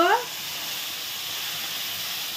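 Prawns fry in a pan after chili powder goes in, giving a steady, close, even hiss and sizzle that carries on unbroken. A brief voice is heard at the very start.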